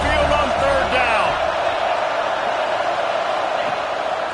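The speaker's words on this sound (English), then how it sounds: "The Tide crowd rolling noise down onto Saban Field on 3rd down." Stadium crowd roaring on 3rd down at a college football game at Saban Field, a steady, dense wash of noise throughout, with some whoops early on and a commentator talking over it.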